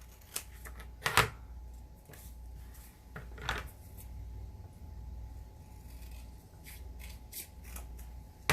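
Scissors snip through a paper Christmas gift tag, trimming away an unneeded house-shaped section: a few sharp, close cuts stand out, with softer paper rustling and handling noises between them and no talking.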